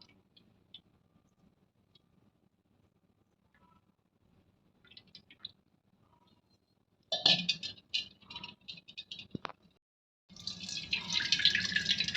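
Rice being rinsed and sifted in water while making arisi murukku, with soft drips and quiet trickles at first, then bursts of splashing and sloshing water near the end.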